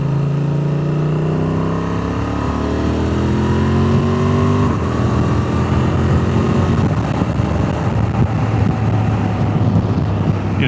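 A Honda Transalp 750 motorcycle pulls up an interstate, its engine note climbing steadily through the gears with rising, shifting tones under heavy rushing wind, and no voices.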